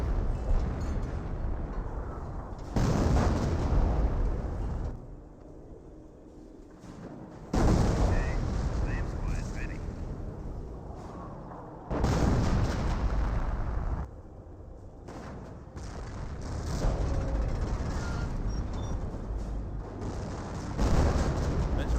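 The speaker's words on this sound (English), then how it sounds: "now 17 pounder firing away" Booming cannon blasts from a 17-pounder anti-tank gun in the Company of Heroes strategy game, arriving as several loud rumbling bursts every few seconds over continuous battlefield noise.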